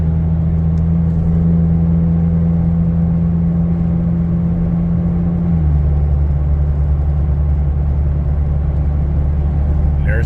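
A loud, steady engine drone from a Chevy Colorado ZR2 Bison pickup with an MBRP catback exhaust hums close by as it accelerates, shifting to a lower pitch partway through.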